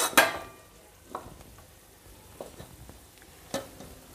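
Prawns cook with gongura leaves in a pan, a soft sizzle under occasional sharp clinks and scrapes of a spoon stirring against the metal, spaced a second or so apart.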